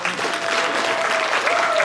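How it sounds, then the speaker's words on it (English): Audience applause during the opening of a comedy web show, a steady dense wash of clapping filling the whole stretch at moderate loudness, with a faint voice or whistle tone running through it. "So you can clap if you want, it's all good."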